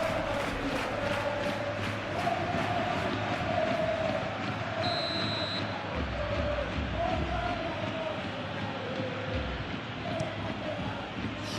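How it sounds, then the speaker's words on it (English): A simulated stadium crowd in PES 21 during a Real Madrid vs Getafe La Liga match gives off a steady, restless roar of annoyance after an offside whistle, a broad wash of murmuring noise throughout. "You can hear the annoyance in the crowd."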